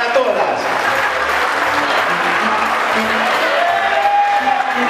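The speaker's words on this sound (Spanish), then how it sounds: "Fuerte, fuerte el aplauso, fuerte." Steady, dense applause from an audience gathered at an association event in Loma Hermosa, Argentina, sustained and fairly loud throughout.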